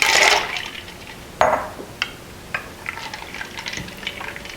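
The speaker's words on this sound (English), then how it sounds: "Then you want to add 4 cups of water and a couple cups of ice" Water is poured into a pot of brine for corned beef along with cups of ice, starting with a loud splashing gush, then a sharp plunge followed by scattered clinks and small splashes.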